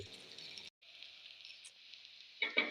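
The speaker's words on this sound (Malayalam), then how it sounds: "ഇവിടെ നമ്മുടെ മീൻ പൊരിക്കാൻ വെച്ചിട്ടുണ്ട്" Kedal fish frying in a pan gives a faint, steady sizzle with soft crackles, briefly dropping out before a few louder pops and spits near the end.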